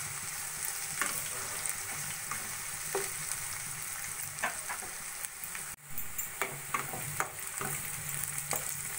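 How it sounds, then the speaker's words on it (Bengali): Onions fry in a pan until light golden, a continuous crackling sizzle broken by repeated scraping strokes of a stirring spoon, close and steady with no voices. "পেঁয়াজ যতক্ষণ হালকা সোনালি ভাজা না হচ্ছে ততক্ষণ আমি পেঁয়াজটা ভেজে নেব।"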